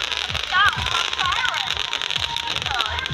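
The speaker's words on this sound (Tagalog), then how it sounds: "May fireworks pa gali." Fireworks crackle and pop repeatedly at a beach resort at night, a string of sharp bursts in quick rhythm, with people talking and a voice over them.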